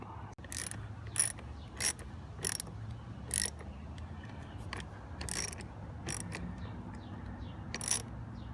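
A ratchet tightens a battery terminal on a Cadillac SRX, giving sharp, quiet clicking bursts in an irregular series of about a dozen strokes, close up with no talk.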